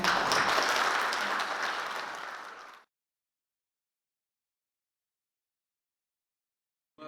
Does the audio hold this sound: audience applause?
yes